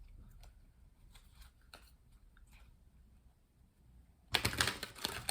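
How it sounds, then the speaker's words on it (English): Tarot cards are shuffled in a short, loud, crisp riffling burst near the end, after quiet faint handling taps and soft rustles. "Let's continue by pulling 6 tarot cards and do some shuffling"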